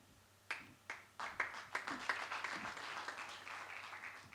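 An audience applauds as a girl is called to the front: a few scattered claps build within seconds into steady, dense clapping, moderately loud and slightly distant, with no talking.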